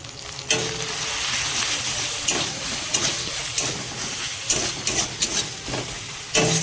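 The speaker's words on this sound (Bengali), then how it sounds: "মশলাটাকে হালকাভাবে ভাজা হয়ে গেছে এবার দিয়ে দিব শুকনো লঙ্কা হলুদ লবণ" Ginger-garlic paste and spices sizzle in hot oil as dried chili, turmeric and salt go in for an egg and pointed gourd curry. A loud, steady frying hiss carries through, with sharper bursts as the pan is stirred.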